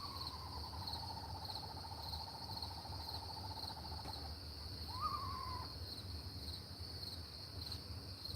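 A strange bird call from a backyard: a long wavering whistle that slowly falls, then a short rising-and-falling squeal, over steady insect buzzing and low rumble.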